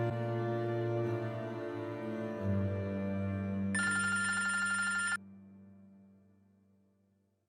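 A telephone rings with a steady electronic tone, then a bright bell-like trill sounds for about a second and a half before cutting off, leaving a fading hum, heard close and clear in a domestic drama scene.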